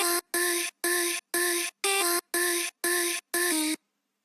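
Eight short dry vocal chops cut from an acapella for a melodic dubstep remix, with no effects, repeat in an even rhythm with brief silences between, close and upfront, each a clipped sung syllable with a clear pitched tone.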